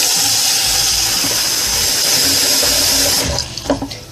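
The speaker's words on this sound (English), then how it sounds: "taking your bowl and actually putting some hot water, not too hot, just a bit, just warm water" Warm tap water runs steadily into a washing bowl, a continuous close splashing stream that cuts off and trails into a few drips and sloshes near the end.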